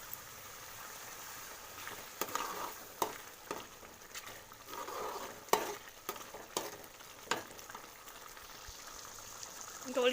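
Egg curry simmering in a pan as coriander powder is stirred in: soft, intermittent spoon scrapes and taps over a faint, steady sizzle, fairly quiet and close.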